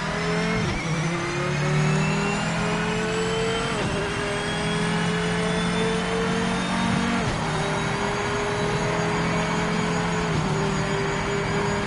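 Race car engine in Project Motor Racing, driven with a Logitech G29 wheel, revving hard through a lap: a sustained loud mechanical drone with repeated upshifts and a rising, falling pitch, and no talk over it.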